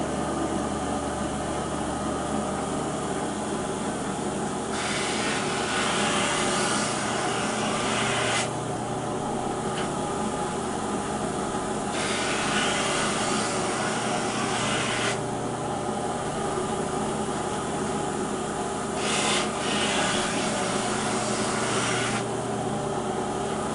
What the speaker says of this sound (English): on the edge beveling machine, we do it the same way as we do hand